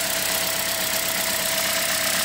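A four-cylinder 2009 Toyota Corolla engine runs rough with an ignition coil fault, a loud, steady close-up idle with continuous mechanical clatter and a faint underlying whine.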